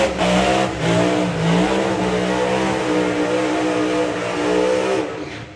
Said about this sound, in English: Scrubbing in a new set of tyres by the sounds of that.